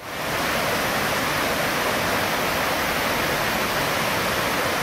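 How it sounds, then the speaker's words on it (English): South Fork Cascade waterfall on the Teton Crest Trail pours with a loud, constant, close roar of rushing water. "South Cascade Waterfalls."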